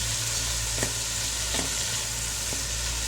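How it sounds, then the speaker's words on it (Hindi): Vegetables stir-frying over high heat for chicken egg fried rice, a loud, dense, continuous sizzle with a few scraping stirs of the spatula, close and without talk. "फिर तेज़ आंच में अपने भूनना है ताकि ये सब्जियां बैठे ना"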